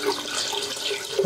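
Water runs steadily from a tap in a home kitchen while a balbacua stew is being cooked, a soft continuous hiss and splash close by, with no talking.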